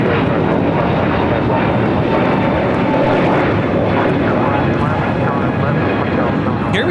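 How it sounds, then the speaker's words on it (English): A Spirit Airlines Airbus A321neo takes off at LAX, its jet engines roaring loudly and steadily throughout, with voices talking over the noise. "Here we have an A321neo with Spirit taking off to Detroit, flight 711."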